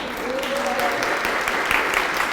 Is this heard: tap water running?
no